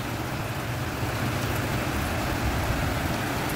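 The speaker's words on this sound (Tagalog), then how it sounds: "Sobrang lakas ng ulan mga kaibigan." Heavy rain pours down in a dense, steady roar with no pauses and no voices.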